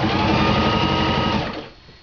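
A sewing machine runs steadily while stitching a quarter-inch zigzag seam on a Christmas stocking, with a close, dense motor whir that slows and fades near the end.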